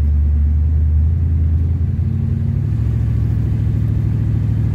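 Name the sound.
1977 Pontiac Trans Am engine driving on the road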